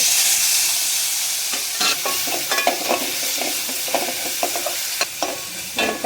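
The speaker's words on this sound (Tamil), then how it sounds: "தக்காளி நல்லா வதங்கட்டும்" Tomatoes sauté in a pan for a spinach and peanut kootu, giving a steady close sizzle broken by scraping stirs of a spatula throughout, with no talking.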